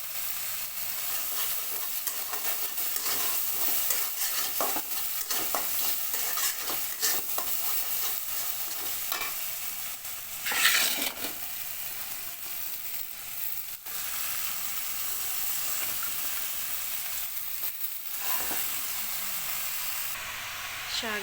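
Spices with turmeric and chili powder stir-fry in a pan, a steady low sizzle broken by repeated scraping and stirring strokes, with one louder scrape midway. Close by and fairly quiet, with no talking.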